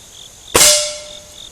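A Beeman RS2 .22 caliber air rifle fires one sharp, close shot during a chronograph velocity test, a crisp crack with a short metallic ring that fades over about a second against quiet, faintly buzzing surroundings.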